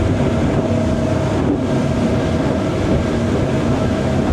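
Parker Sorrento 100 boat running at about 3,500 revs into swells, a loud steady engine drone with hull rumble and rushing water, a brief dip in the noise midway, no speech.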